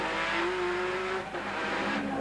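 Onboard a 1991 Nissan GT-R touring car racing at Lakeside Raceway, a loud, continuous engine drone fills the cockpit, with a sustained whine that holds steady and then drops as the revs change, no voices.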